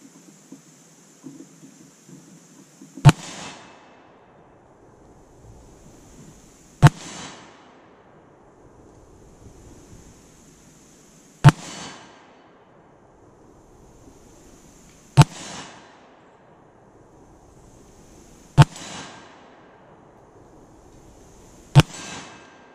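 Six sharp, loud Desert Eagle .41 Magnum pistol shots ring out a few seconds apart outdoors, each crack followed by a short echoing tail, with quiet gaps between.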